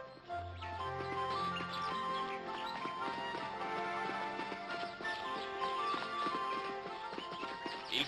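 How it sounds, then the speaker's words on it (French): Horses pull a carriage, their hooves clip-clopping in a steady rhythm beneath a swelling orchestral music score that dominates the scene, with faint birdsong mixed in. "Il faut laisser un peu souffler les chevaux."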